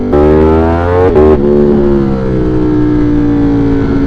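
A Subaru car engine revs loudly under acceleration in sport mode during a commute, a rising tone that briefly dips at a gear change and then settles into a steady, slowly falling drone.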